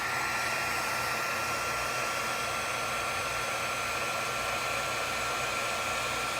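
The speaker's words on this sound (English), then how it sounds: "And now, again, with the cordless heat gun." A cordless heat gun blows hot air onto a repair treated with heat cure compound, a steady, loud, close whirring rush of fan noise that holds without a break.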